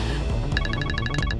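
A telephone rings with a rapid series of repeated electronic trill bursts, fairly clear over a dull background hum, with no talk.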